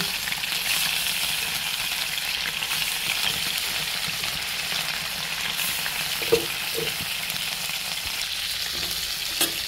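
Tilapia and rohu fish pieces fry in hot oil with a steady, dense sizzle throughout, broken by a couple of faint clinks near the end.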